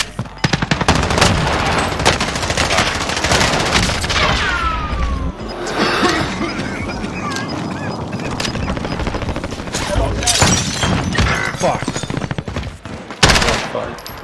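Gunfire in the video game Warzone, including shotgun blasts, comes as loud rapid bursts and scattered shots with thumps, while players talk excitedly over the action.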